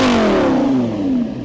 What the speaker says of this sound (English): massive V10, and sounds like this.